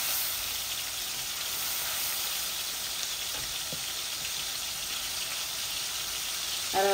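Spice paste frying in a pan, a soft, even sizzle held close, with a few faint taps of stirring and a brief rattle at the very end.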